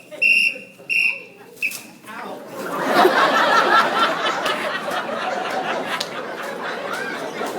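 A sharp whistle is blown in two or three short, loud blasts, followed by a burst of crowd chatter and laughter that continues to the end.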